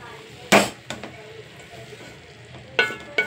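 Chutney ingredients fry in oil in a pan, a soft steady sizzle broken by a few sharp clinks and scrapes of a utensil against the pan.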